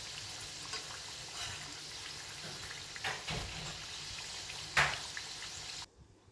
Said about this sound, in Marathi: चला करंजी तर तळून झालेल्या आहेत